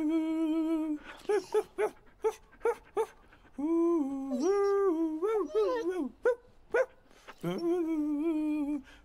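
A dog whines and yips in a scene from a dubbed action film, with a series of short, high, tonal cries and longer wavering whimpers in close bursts, mixed with voices.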